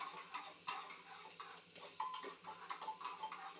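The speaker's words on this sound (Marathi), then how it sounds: "चांगलं ब्राऊन करून घेऊया आपण कांदा." Onion being stirred with a utensil in about two spoonfuls of hot oil in a heated pressure cooker while it browns, a quiet sizzle under scraping and light metallic clinks against the pot.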